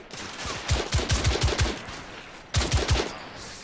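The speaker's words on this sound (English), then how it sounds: "They're shooting at me!" Rapid automatic gunfire in The Order 1886 video game, a loud burst of evenly spaced shots, a short pause, then a second tight volley, close and punchy with no voices.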